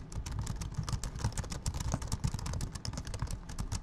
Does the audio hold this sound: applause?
no